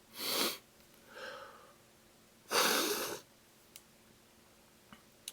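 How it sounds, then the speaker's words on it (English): A few sharp, wet sniffles through the nose, spaced apart with quiet gaps, close by. Small clicks follow, and no one speaks. "I'm not crying, I'm sniffling."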